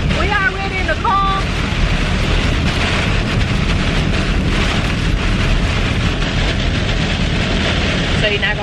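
Heavy rain pours down in a constant, dense hiss, loud and close, with a few brief tonal sounds early on.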